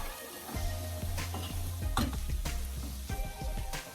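A spoon stirs fish curry with okra in a pan, giving a busy run of scraping and clacking strokes over a steady sizzle. The stirring is close and fairly loud throughout, with no voices.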